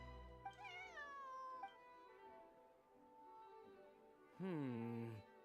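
A cat in Genshin Impact lets out two drawn-out meows, the first rising and wavering, the second lower and sliding, separated by a quiet pause with faint background ambience.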